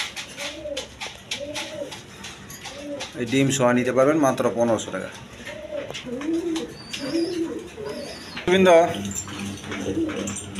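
A pair of racer pigeons, a Kashmiri racer and a red one, coo repeatedly in a loft, rhythmic low rolling calls that come and go under someone talking nearby.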